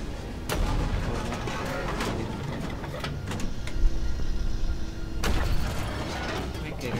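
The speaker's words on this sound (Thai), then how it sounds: "เรียบร้อยรถถังระเบิด" In Battlefield 2042's 1942 portal mode at El Alamein, a tank explodes amid artillery fire: sharp booming blasts punch through a rumbling mechanical battle din, with several heavy hits spaced a few seconds apart.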